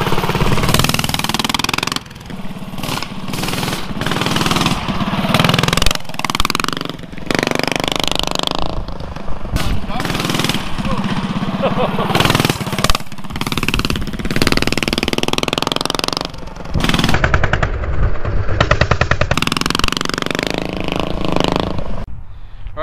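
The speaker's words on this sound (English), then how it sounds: "thanks a lot, Chris, for making the cold air intake for the mini bike with the nitrous attachment." A mini bike engine fitted with a cold air intake and a nitrous attachment runs loud and close, with a rough, choppy note that surges and dips in uneven bursts across the whole stretch.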